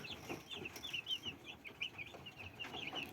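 Broiler chickens in an indoor brooder cluck and chirp softly in a quiet, close-up chorus of short, scattered calls, with no one speaking.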